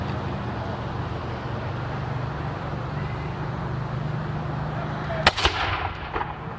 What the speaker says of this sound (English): you can hear the wall gun being fired off too